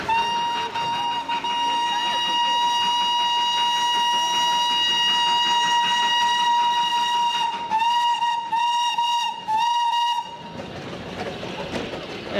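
Steam whistle of a little toy train climbing the Himalayan foothills on narrow track, a long loud sustained multi-tone blast that breaks into several short toots before fading into rail and engine rumble.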